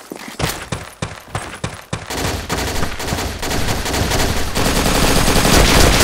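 Kar98k rifle gunfire in the online shooter Karma Online: a quick series of sharp, loud shots at first, then a dense, continuous barrage of overlapping gunfire building in intensity.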